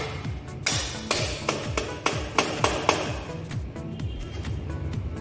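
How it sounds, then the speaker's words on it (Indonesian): A rubber or plastic mallet taps a motorcycle wheel onto its axle during brake system maintenance, giving a series of about ten sharp, close knocks in an uneven rhythm, then quieter trailing taps. "kemudian dengan palu karet atau palu plastik kita ketuk"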